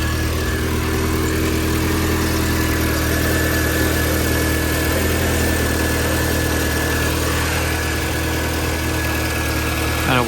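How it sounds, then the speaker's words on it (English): A 2005 VW GTI with a 1.8-liter turbo engine idles steadily during a cooling system service, a constant close hum with slight vibration and no clear start event. "car starts up."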